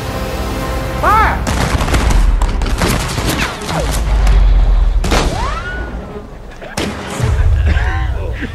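Movie-trailer gunfire comes in repeated bursts of loud shots and booming blasts. Orchestral music swells beneath the volleys.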